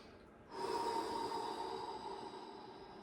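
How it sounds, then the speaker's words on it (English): A deep breath drawn during a mobility stretch, starting after a short pause and holding as a steady, breathy hiss close to the mic, with no talk over it. "My body's telling me to take a nice deep breath here."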